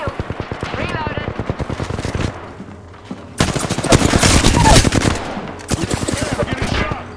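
Automatic weapon fire in the video game Apex Legends comes in rapid bursts, loud and sharp, with short gaps between strings of shots and a player talking over parts of it.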